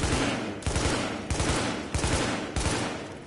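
Gunfire from the SA rifle on a firing range in The Division, with loud, close shots in an even rhythm, about five reports spaced roughly two-thirds of a second apart, each with a long ringing tail that fills the gaps.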